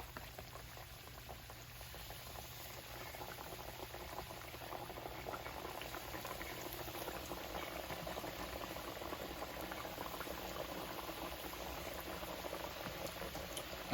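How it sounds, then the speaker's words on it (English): Walleye fish pieces fry in 350-degree vegetable oil, giving a continuous, even sizzle and bubbling crackle that holds steady from start to finish. "Lay in away from you. Nice sizzle."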